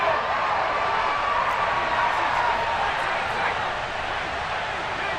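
Stadium crowd at a 49ers versus Cowboys NFL game roaring and cheering for the defense, a dense, sustained wash of distant cheers and applause with a commentator talking over it.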